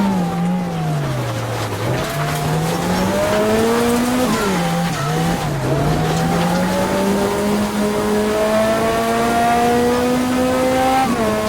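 A Lancia Delta S4 Group B rally car climbs the Transfagarasan mountain road. Its engine note rises and falls through the gears, and the tires squeal on the bends. The car is heard up close and continuously, with no talking.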